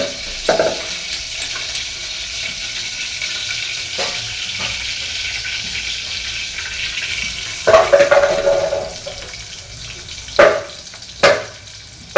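Garlic pieces frying in a pan in a home kitchen, a continuous soft sizzle with occasional scraping stirs and clinks, no voices.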